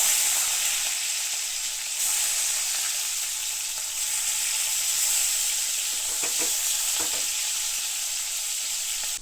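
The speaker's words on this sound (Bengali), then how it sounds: "মাছগুলো ততক্ষণ ভাজা হোক" Fish frying in a pan gives a steady, loud, close sizzle of hot oil that runs throughout, with a few faint crackles and no voices.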